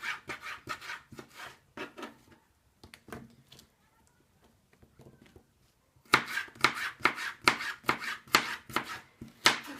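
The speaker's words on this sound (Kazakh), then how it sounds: "Ал енді келесі кезекте әрқайсысын ұзын жолақ етіп тураймыз." A knife slicing a thin omelette into long strips on a board gives quick, close, rhythmic chopping taps, with a quiet pause in the middle before a denser run of cuts.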